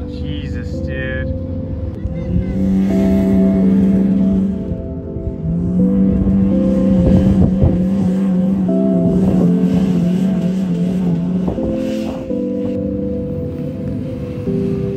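An off-road motorhome drives through Hammertown at King of the Hammers, its steady engine drone and rumble running throughout under close, ongoing talk.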